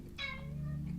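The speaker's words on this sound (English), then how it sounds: "My cat is talking to me." A house cat gives a single close, clear meow lasting under a second in a quiet room, with no talking over it.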